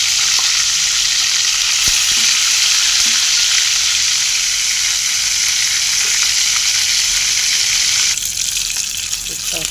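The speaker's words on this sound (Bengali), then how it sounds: "কুপ্তা ভাজা হয়ে গেছে" Hot oil sizzles and crackles around frying kofta, a loud continuous hiss with a couple of light utensil taps, easing slightly toward the end.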